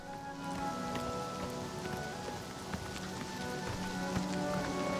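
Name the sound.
horse hooves in rain, video game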